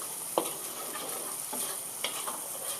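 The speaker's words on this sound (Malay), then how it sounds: "Bila kita goreng kari itu" Beef curry fries in oil in a pan over low heat, a soft continuous sizzle broken by a few sharp scrapes and stirs of the spoon, close and quiet with no talking.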